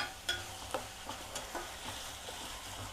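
Faint sizzle of ginger and onion frying in a pan for chapati curry, with scattered scrapes and taps of a spoon stirring through a steady low hiss.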